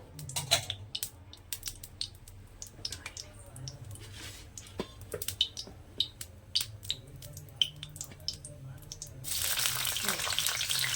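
Oil heating in a pan for a paneer dish, giving a quiet, faint sizzle with scattered small pops and drips, growing into a louder hiss near the end.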